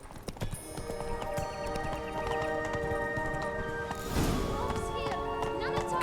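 A horse gallops in The Witcher 3 video game, rapid clip-clop hoofbeats drumming steadily under a layer of game music and effects, with a louder burst near the end.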